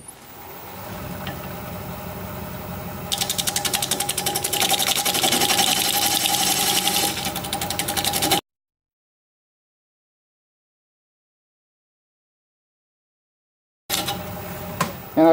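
A wood lathe spins a tenoned blank held in chuck jaws while a tool cuts a parting mark, a steady close whirring that grows rougher and louder as the cut bites, then stops abruptly before the motor resumes briefly.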